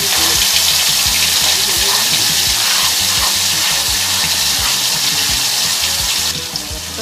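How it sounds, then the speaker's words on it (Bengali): Water poured into a hot pan of bay leaf, panch phoron and green chilli paste gives a loud, steady rushing hiss that carries through and drops off sharply near the end. "সামান্য একটু জল দিয়ে দিলাম"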